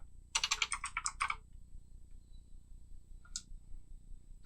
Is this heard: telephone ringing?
no